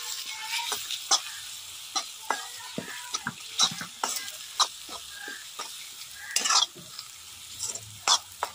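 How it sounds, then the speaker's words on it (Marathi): Chilli powder, coriander powder and turmeric frying with onion and tomato, a soft sizzle punctuated by repeated scraping, tapping stirs of a spoon against the pan, close and alone. "हे सगळे मसाले कांद्या टोमॅटो मध्ये चांगले परतून घ्यायचे"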